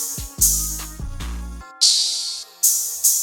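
Bright open hi-hat hits in a trap-style beat, four sizzling washes spaced irregularly, first laid over bass and kick notes and then standing mostly alone.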